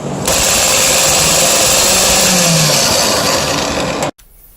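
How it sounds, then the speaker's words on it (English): A car starter motor energized on its own, a loud continuous whirring grind with a rattling edge that runs for about four seconds and then cuts off abruptly. "Now I'm going to have you listen to two starter motors being energized"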